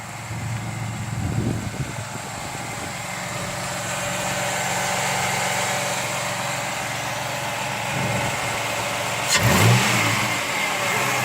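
A 2001 Ford Mustang with the 3.8 V6 engine revs steadily with a loud, droning intake roar, rising and holding over several seconds with a brief swell near the end, no talk.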